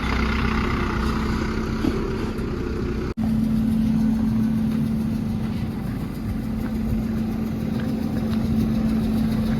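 A Volvo truck engine idles steadily with a low, constant hum and a strong tonal drone, heard close and continuous as the long truck pulls out of a godown, with a brief dropout partway through.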